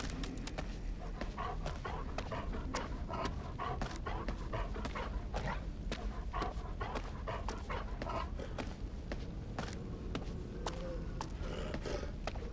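A dog pants and whimpers steadily in the horror game Until Dawn, with quick breathy bursts and soft whines continuing throughout at close range over a low ambient game backdrop.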